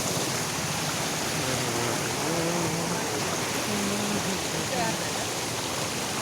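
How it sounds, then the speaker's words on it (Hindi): Water pours steadily down from the doorway of a house, a dense continuous rushing splash like a stream, constant and fairly loud throughout. "ये दरवाजे से घर के पानी गिर रहा है।"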